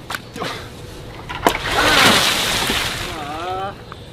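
Water balloons burst and splash during a water balloon fight in a short magic-trick skit, a clear splatter burst with sloshing water and a brief voice.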